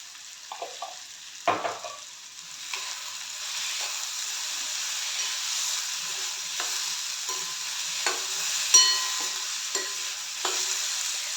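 Parwal (pointed gourd) sabzi being stirred in a hot pan, a steady frying hiss with scattered scrapes and knocks of the spatula, close and loud, with no speech over it.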